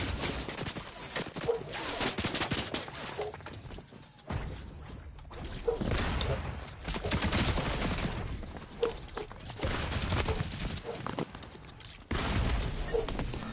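Minigun fire in Fortnite, long sustained bursts of rapid gunfire with brief gaps and a few louder cracks, fairly quiet and continuous in the background with no talk.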